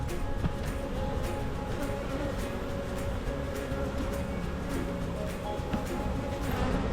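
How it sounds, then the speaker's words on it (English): A dense, steady drone of a honeybee swarm buzzing inside a swarm trap box fills the whole stretch, close and continuous, with occasional bees zipping past. "Inside the box, still, like a ton of bees."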